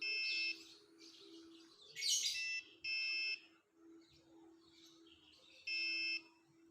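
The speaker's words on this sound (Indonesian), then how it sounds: "Bunyi buzzer juga udah berubah." An electronic buzzer on an egg incubator beeps as the humidity reaches 60%, giving three loud, steady, high-pitched tones about a second apart, with a brief sharper burst between them and a low steady hum underneath.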